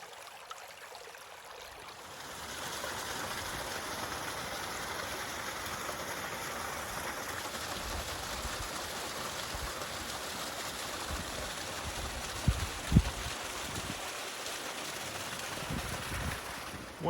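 Cedar Creek, a spring-fed creek just behind a berm in Arkansas's Petit Jean State Park, flows with a steady broadband rush that swells in after a quiet start, with a few soft knocks near the end and no talk.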